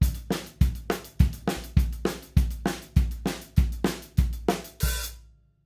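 A drum kit plays a fast 4/4 beat, with bass drum, snare and cymbal hits pounding in a steady driving pattern. It is close and loud, then ends with a crash that cuts off abruptly.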